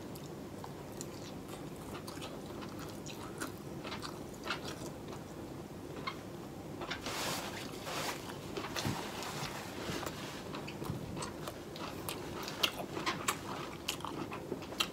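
Crunchy edge of raw seafood sashimi being bitten and chewed, a steady run of close, crisp crunches and wet mastication sounds with no talking.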